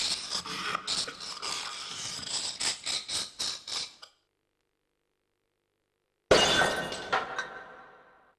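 Glass panel of a cabinet smashed in the Discworld Noir video game: a loud run of rapid crashing shatters for about four seconds, then silence, then a second sharp burst of breaking glass with tinkling shards trailing off.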